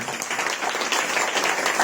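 A church congregation claps together during a sermon, a brisk, even wash of hand-claps that stays steady and fairly close for the whole moment.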